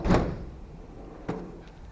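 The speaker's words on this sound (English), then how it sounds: "Which I don't use this drawer much, so it's sticking." A little-used, sticking tool chest drawer jerks open with a sharp thunk, then a second fainter knock about a second later, close and otherwise quiet.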